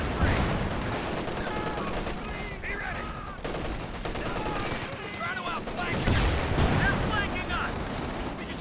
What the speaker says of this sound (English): Machine guns just locking it down.